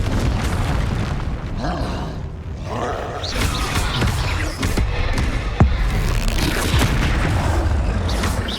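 Confringo blasting spells explode during a Hogwarts Legacy fight, producing repeated booms and bursts within a loud, constant battle din, with a sharp crack standing out near the middle.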